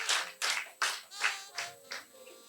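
A workshop audience at a fishing and aquaculture event claps together in a rhythmic group pattern, six loud, synchronized bursts of many hands with short pauses between them.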